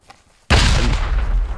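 A hand grenade detonating in the World War II shooter Hell Let Loose, a sudden loud close blast with a heavy low boom that rumbles on for about a second after near silence.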